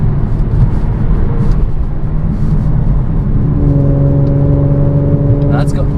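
A 2016 Mercedes-Benz C450 AMG climbs a hill in 4th gear, its engine a loud, steady droning hum from inside the cabin, pitch rising slightly as it pulls under load.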